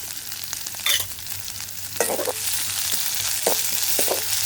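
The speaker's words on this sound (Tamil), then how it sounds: "இதோட வெட்டி வச்சுருக்கிற வெங்காயத்தை சேர்க்குறேன்." Chopped onions hit hot oil with a steady sizzle, punctuated by a few clattering stirs, close and moderately loud with no voices.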